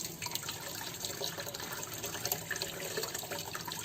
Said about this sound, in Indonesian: bisa pakai air mengalir gini caranya, nanti dia kebuang tuh